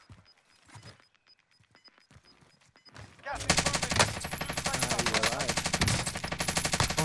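Rapid automatic gunfire in the game Warzone, sparse shots and game noise at first, then a loud sustained burst of fast-rhythm fire close by, with voices talking early on.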